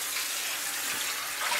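Tap water rinses out a cast iron pan in a sink, a continuous close gushing spray, slightly stronger toward the end, with nobody talking.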